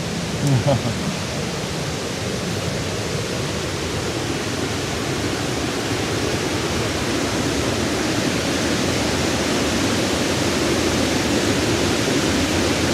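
Steady loud rushing spray of a waterfall pouring over a small open electric Renault Twizy on the road at Geiranger, Norway, a broad constant wash of water noise throughout with no clear talk.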